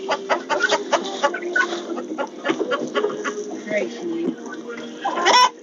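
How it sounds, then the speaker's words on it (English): Backyard chickens cluck close by in quick, irregular bursts with a few louder squawks, a busy flock chatter filling the whole stretch as a person talks softly in the background. "So this was a rescue chicken"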